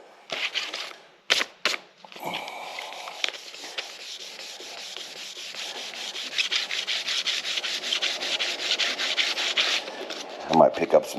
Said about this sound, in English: I want to see how much sand it's going to take on these.